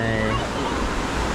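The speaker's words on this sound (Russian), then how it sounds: "Но волны дают, да, свою атмосферу." Ocean waves wash onto a beach in Phuket with a steady, loud, broadband roar and surf noise filling the whole moment, with no distinct break.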